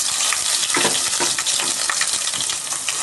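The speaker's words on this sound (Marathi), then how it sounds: "लसूण चांगली भाजली तेलामध्ये आता मी यात टाकते वाटलेला मसाला" Ground spice paste frying in hot oil with garlic for a village-style fish curry, giving a loud, dense and continuous sizzling hiss close up.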